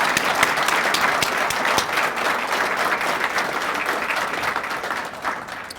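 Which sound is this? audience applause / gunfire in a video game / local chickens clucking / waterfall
audience applause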